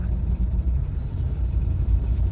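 Steady low rumble of road traffic in the busy Lingampally area, heard from inside a moving car: a continuous muffled engine and tyre drone with no speech.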